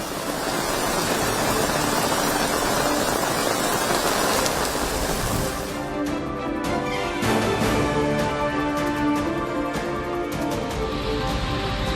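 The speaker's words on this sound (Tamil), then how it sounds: "நெல்லை மாநகரின் பல்வேறு பகுதிகளிலும் கனமழை." Heavy rain over Tirunelveli city pours as a dense, steady roar for about six seconds before music takes over.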